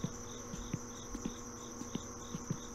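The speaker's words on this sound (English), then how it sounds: "Oh, I've got the fly and the mosquito. Okay, I can hear the difference now." Insects in the My Summer Car video game, a fly and a mosquito buzzing close by with a thin steady whine and short repeated buzzy bursts at an irregular pace, alone without talk.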